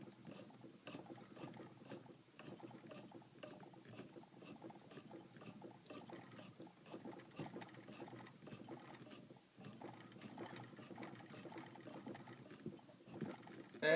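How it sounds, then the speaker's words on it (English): A hand crank turning to cut threads into a wine bottle stopper, a steady, quiet ratcheting and grinding with regular mechanical clicks, continuous and close, with no talking. "just going to do by turning the crank on the end by hand and literally turning this in, cutting the threads"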